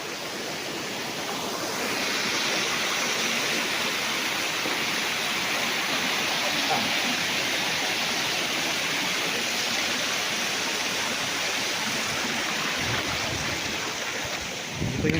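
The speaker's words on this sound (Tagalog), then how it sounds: "Yan, may bukal pa dito." Water from a natural spring on a farm lot in Lucban, Quezon runs as a steady broadband rush. It keeps the same level for the whole stretch, close and continuous, with no voices.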